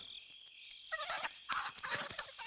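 A hen brought by a seller clucks and cackles close by in a quick burst of harsh notes, over a faint steady tone.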